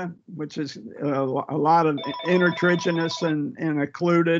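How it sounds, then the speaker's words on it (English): A mobile phone rings through a lecture on steroid use in dermatology, its steady electronic tones sounding in a regular pattern beneath continuous nearby speech. "Sorry, that's my phone."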